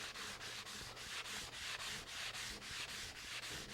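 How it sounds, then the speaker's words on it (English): Sandpaper backed by a stiff sponge block rubs across a cast iron table saw top in quick, regular back-and-forth strokes, about three per second, close and alone. "I'm using this stiff sponge block to back up the sandpaper because I want a flat surface when I'm sanding the cast iron top."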